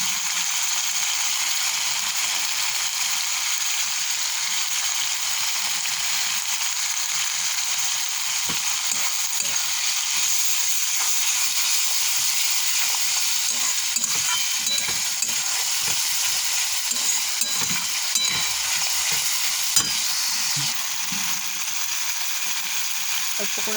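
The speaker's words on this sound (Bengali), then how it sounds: "চলো মশলাটা কষিয়ে নিই" Spices frying with tomato, turmeric and salt in a pan give a constant loud hissing sizzle, with scraping stirs and small clatters of the spoon throughout, close up and without pause.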